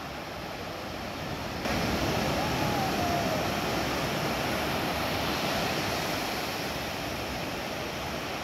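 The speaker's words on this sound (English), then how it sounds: "Still splashing Naz" Continuous rushing, splashing water fills the whole clip, a dense broadband wash that grows louder after the first second and stays steady.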